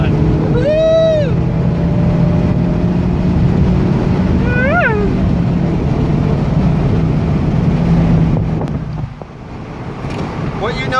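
A Mazda MX-5 Miata ND drives through a turn with a loud, steady engine and road drone under heavy wind buffeting, a brief whoop of a voice partway through, and the engine note easing toward the end.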